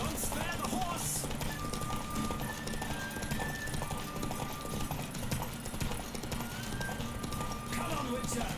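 Horse hooves pound at a steady gallop during a race in The Witcher 3: Wild Hunt, a dense continuous clatter that runs throughout under game sounds, with a voice speaking over it.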